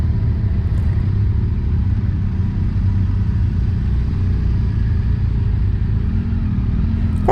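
A BMW motorcycle engine rumbles steadily while the bike rides onto a ferry, a loud, continuous low drone that stays even throughout, close up and with no voices.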